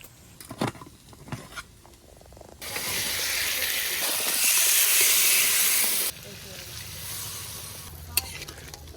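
Rice boiling in a pot over a wood-fired clay stove gives a loud, steady bubbling hiss for several seconds, with quieter crackling and faint kitchen sounds before and after.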